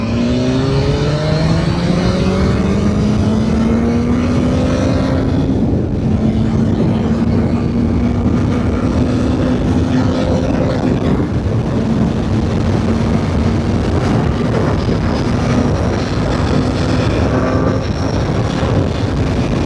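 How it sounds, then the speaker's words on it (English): A BMW S1000R motorcycle engine pulling hard on open throttle, a loud continuous roar rising steadily in pitch with a brief dip partway through as speed builds, no speech. "there's more than enough power just to open the throttle and go."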